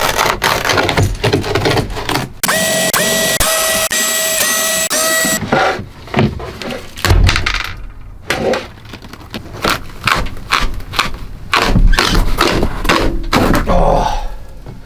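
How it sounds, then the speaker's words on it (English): A cabinet base is torn out of a Four Wheel camper shell, with loud cracks, thumps and splintering wood bangs in irregular bursts up close, plus a stretch of sustained grinding rattle. "I'm just going to rip this out of here."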